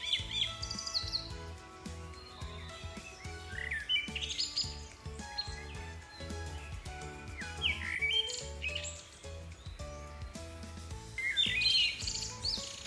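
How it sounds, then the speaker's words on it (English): Brightly colored rainforest macaws, a type of parrot, call and squawk over a dense chorus of other bird chirps and whistles, with repeated shrill bursts rising above a steady layered background. "Macaws are brightly colored parrots that live in the rainforest and love to squawk."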